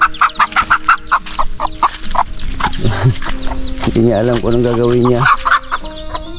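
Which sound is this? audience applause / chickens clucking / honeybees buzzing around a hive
chickens clucking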